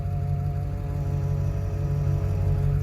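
A failing power steering pump on a 2000 Ford F250 whines steadily over the idling engine's low rumble, constant and close with no breaks.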